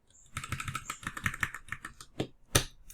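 Rapid keystrokes clatter on a computer keyboard while a flowchart is being built, close and crisp in quick irregular bursts, ending with a sharper, heavier key press.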